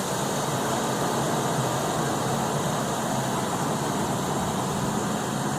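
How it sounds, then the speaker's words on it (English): A Mazda B3000/Ford Ranger engine running at fast idle with the headlights and blower motor on, giving a steady, even broadband hum and whir that holds constant throughout, close and fairly loud, with no voices. "Engine running at a fast idle"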